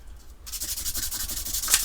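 Soft sandpaper rubs on an aluminum car mirror housing in quick back-and-forth strokes, a close, rhythmic scratchy swish repeating steadily for over a second.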